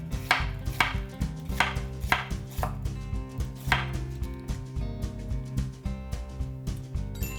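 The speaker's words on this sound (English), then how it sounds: "And I also like to use cabbage. I'm using a red one for color today. Same thing, just julienne everything." A knife julienning red cabbage for vegan cold noodles: quick, even chopping strokes knock against a cutting board in a steady rhythm, close and clear, with no voices.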